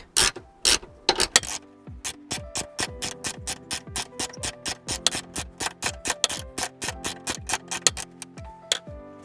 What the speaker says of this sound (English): I'm going to use the 8mm again to hold it in place while I take out the sway bar link